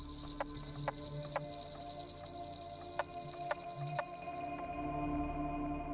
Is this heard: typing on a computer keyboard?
no